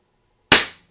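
An Air Arms S510 XS TDR air rifle fires one sharp, loud crack out of silence, followed by a quick decaying tail.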